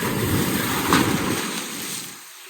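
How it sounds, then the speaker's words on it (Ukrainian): Sea waves along the Albanian coast, a broad steady wash of surf with wind rumble on the microphone, swelling briefly near the middle before easing and thinning toward the end. "Гарні хвилі, значить."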